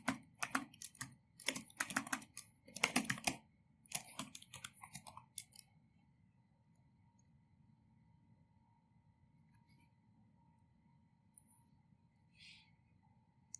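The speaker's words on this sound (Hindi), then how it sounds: "यहाँ पर आपने टाइप करना है विंडोज़ टर्मिनल" Quick bursts of typing on a computer keyboard, a few seconds of close, crisp key clicks in irregular clusters, followed by near silence with faint hum.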